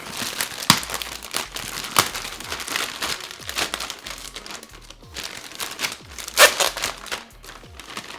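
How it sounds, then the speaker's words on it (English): A Vision Pro case is pulled out of its plastic packaging, giving steady close crinkling and crackling of plastic with sharper rustles and tearing bursts throughout, and no talking. "So let's take this out of the plastic."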